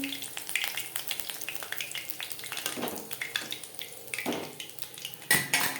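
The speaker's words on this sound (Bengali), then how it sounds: "পাকোড়া ক্রিস্পি করে ভাজা হয়ে গেছে" Crispy egg and flour pakoras in frying oil, a low sizzle beneath frequent clinks and scrapes of a utensil against the pan, with a louder clatter near the end, no speech.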